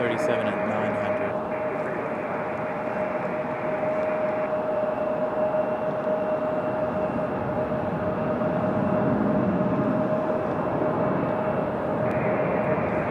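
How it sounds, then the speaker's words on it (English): A United Airlines 737-900 airliner departing Raleigh-Durham International Airport heavy, its steady broadband jet roar loud and continuous throughout, with a sustained whine layered on top and a voice talking over it at times. "United departing a bit heavy there."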